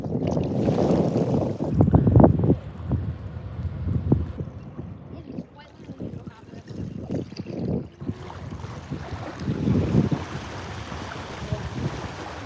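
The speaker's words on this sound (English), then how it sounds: "There was a bunch of boats going by at the same time." Boats pass on the water by a boat ramp in Alaska, a low rumbling wash with wake lapping and heavy wind buffeting the microphone, rising and falling in loud surges.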